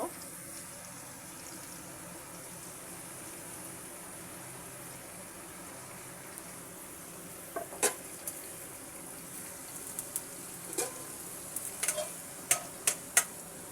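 A low, continuous frying sizzle comes from a wok with a little oil after potatoes and chicken were fried. Sharp metallic scrapes and clinks of stirring join in and grow more frequent toward the end.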